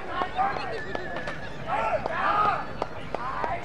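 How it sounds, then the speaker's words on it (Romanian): Two horses pull in a double-pair traction race at Barcani, hooves clip-clopping in quick repeated beats amid whinnies, with a commentator talking over the sound. "Uitați ce bine se întind aici, aham, cei doi cai."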